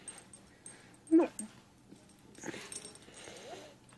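A dog named Rocky gives a sharp yelp followed by softer, drawn-out whimpers and whines, close by, with quiet background around them.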